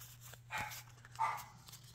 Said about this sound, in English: Goes my dog out there barking.